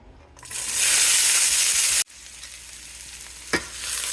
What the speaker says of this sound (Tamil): இப்போ நான் அதை பரட்டி விடலாம். ஓரளவுக்கு ஃப்ரை ஆகிடுச்சு.